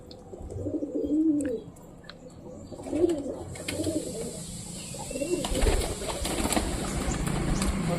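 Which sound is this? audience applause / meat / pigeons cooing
pigeons cooing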